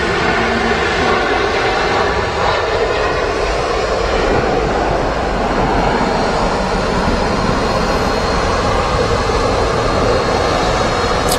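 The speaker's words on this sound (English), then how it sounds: "lining up on the ILS for the final approach into Manchester Airport" An airliner on final approach into Manchester Airport, lined up on the ILS, gives a loud, continuous engine roar that holds steady and dominates throughout.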